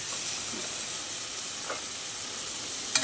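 Sprouts frying in oil in a pan send up a steady, even hiss and sizzle with a couple of faint pops and a sharper crackle at the end, heard close up with no talk.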